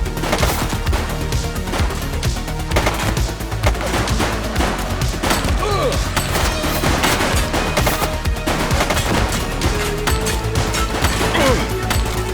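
Gunfire in The Precinct police video game: dense, loud bursts of rapid shots with sharp cracks and impacts, continuous and chaotic throughout.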